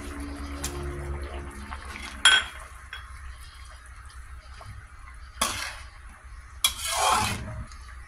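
Water poured into a pot of corn being cooked for suam na mais, with a few short splashing and clinking bursts of the pot over a quiet kitchen background.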